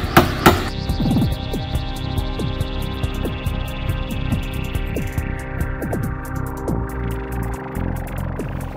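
Hammer blows drive 35 mm nails into a wooden bookshelf, a steady series of sharp, close knocks at irregular intervals, ringing slightly in a workshop space.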